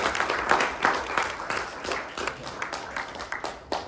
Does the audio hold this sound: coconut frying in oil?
no